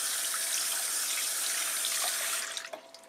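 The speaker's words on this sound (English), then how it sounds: "all I do for that is to run water on it" Tap water pours steadily onto the screen of a handmade wooden soap dish, a constant close hiss of running water that cuts off near the end, leaving a few faint drips.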